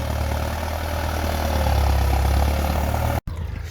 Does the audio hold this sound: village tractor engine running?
yes